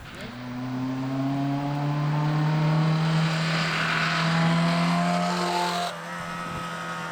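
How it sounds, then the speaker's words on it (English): A Mitsubishi Delica van passes on the road, its engine note rising and swelling as it approaches and then fading away. Broad tire and road noise accompany it, loud and close, with no talking. "you can see a Mitsubishi Delica passing us here."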